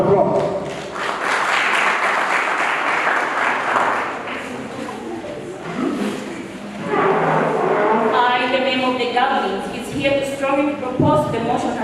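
An audience claps to welcome the next speaker at a school financial literacy debate, with broadband applause through the first half, then voices and speech-like harmonics rising over the fading clapping.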